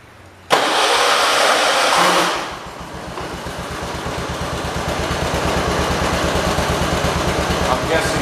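John Deere 216 lawn tractor engine starting: a sudden cranking burst turns into a rough, rhythmic chugging idle that settles, then slowly revs up, close and loud.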